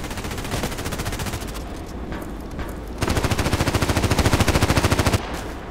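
Automatic gunfire in the shooter game Contract Wars, with an AS VAL rifle and Kobra sight on the map Site: sustained rapid bursts, growing louder and denser midway before easing off.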